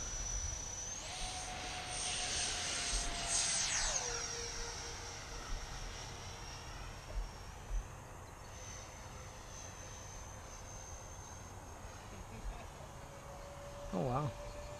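An E-flite Su-30 RC jet aircraft with an 8S setup flies steadily, its turbine-like whine sustained and shifting in pitch as it passes, with brief outdoor voices in the background.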